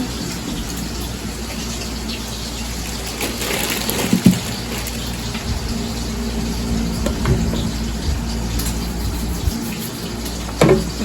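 Fermented fish sauce (pla ra) is poured into a spicy papaya salad, making a soft continuous liquid trickle with occasional clinks and knocks of utensils.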